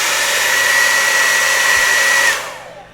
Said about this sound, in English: this is my personal hair dryer